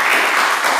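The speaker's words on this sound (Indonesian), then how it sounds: "Kita beri tepuk tangan untuk kita semua." A class of students gives a brief, dense burst of clapping, close and loud.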